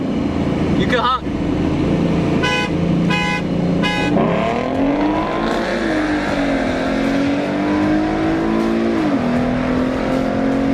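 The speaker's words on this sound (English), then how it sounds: "You can honk." Three short, loud car horn honks in quick succession during a street race between Mustangs, followed by an engine revving and accelerating up close.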